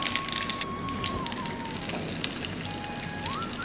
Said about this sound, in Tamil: கடுகு வெடித்த உடனே உளுத்தம் பருப்பு ஒரு ஸ்பூன் போட்டிருக்கேன்